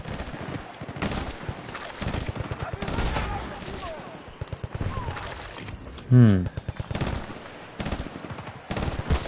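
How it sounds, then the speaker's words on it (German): Bursts of gunfire from the shooter video game Battlefield Bad Company 2, rapid automatic fire and sharp shots popping throughout under speech, with a louder burst partway through. "Wer auch immer da gerade geschossen hat."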